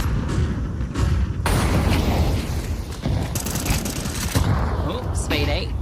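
Pistol shots in a Counter-Strike esports match, a USP firing among dense gunfire and game effects. The bursts sound sharp and fairly close, and a caster talks excitedly over them the whole time.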